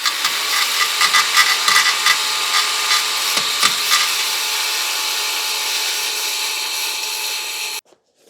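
A cutting disc grinds through a seized bolt on the rear hub of a Mk2 Volkswagen Golf, a loud, steady metallic whine with gritty rasping that runs continuously for about eight seconds, then cuts off abruptly.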